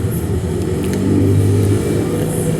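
A Suzuki Address fuel-injected scooter engine runs steadily at close range while its idle screw is turned, a continuous low rumble with a slight rise in the middle, no voices.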